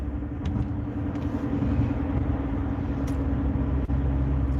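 A car drives along a road with a steady, loud engine and road rumble throughout, passing through a few faint higher clicks and no talking.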